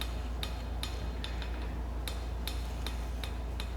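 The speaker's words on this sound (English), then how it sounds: "So here I've switched to a finer hammer. This is a 1 pound cross peen" A 1-pound cross peen hammer planishing the surface of a hand-forged steel chef's knife on an anvil, giving a string of crisp metallic taps at an uneven, roughly half-second rhythm over a steady low hum.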